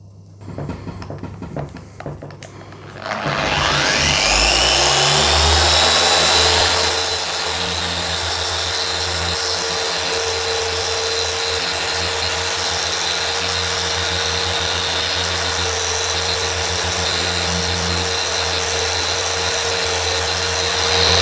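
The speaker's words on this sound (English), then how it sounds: "I'm just going to switch up to the machine now, so we're just going to use the machine polisher" A machine polisher working car paint with Meguiars Scratch X 2.0 spins up after a few seconds of handling noises, then runs as a loud, steady whine for the rest of the clip.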